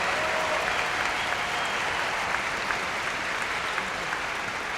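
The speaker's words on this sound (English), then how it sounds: "let's give a very nice round of applause to our wonderful MC from Capital Public Radio, Beth Ruyak." A large audience at a youth symphony awards event applauds steadily and evenly, a dense wash of clapping that holds for the whole stretch with no voices rising above it.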